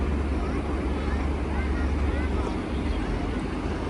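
A large sand-laden cargo trawler boat approaching on the Turag River gives off a continuous low engine drone with wind buffeting, steady and fairly close, while people talk faintly beside the riverbank.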